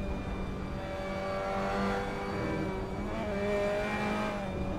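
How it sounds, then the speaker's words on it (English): An onboard Mazda MX5 Cup race car at Cadwell Park, its engine revving high and steady, the revs climbing as the car goes airborne, with a constant raspy drone and road roar and no voices. "Here the revs rising as the car gets airborne."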